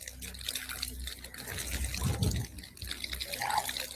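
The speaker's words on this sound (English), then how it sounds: "Suddenly, the man begins pouring a steady stream of water from his mouth." Water pours steadily from a man's mouth, a continuous wet trickle and splash that rises briefly in the middle, with broadband hiss throughout.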